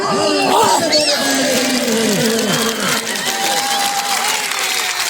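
A crowd at a dhamal performance claps in loud, continuous applause with scattered whistles and overlapping voices, keeping a dense, steady roar throughout.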